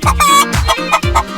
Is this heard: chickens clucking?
yes